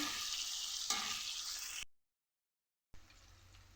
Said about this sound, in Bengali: আলুটাকে লাল করে আগে ভেজে নিই